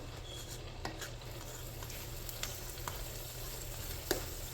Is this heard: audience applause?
no